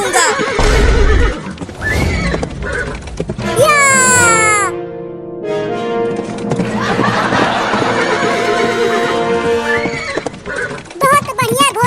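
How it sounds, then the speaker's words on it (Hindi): A horse in a desi comedy sketch lets out a loud, shrill whinny that rises and falls near the middle. Lively voices and laughter surround it, with other bursts of noise before and after. "बहुत बढ़िया घोड़ा, ऐसा ही दौड़ता रह।"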